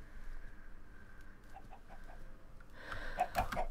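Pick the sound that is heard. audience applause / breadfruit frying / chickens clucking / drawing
chickens clucking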